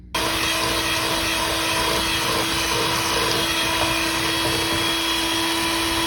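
Electric mixer beats eggs into butter, margarine and sugar for a Caribbean fruit cake batter, a steady close motor whine that starts abruptly and holds an even drone throughout, with no talking.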